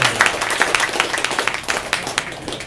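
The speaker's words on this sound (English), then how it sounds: "Give her a warm round of applause." A crowd at a political rally in Annandale, Virginia gives a brief, steady round of applause, with scattered claps close and fairly loud and no speech over them.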